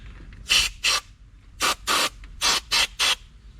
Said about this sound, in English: I don't have an air compressor, but I have a can of compressed air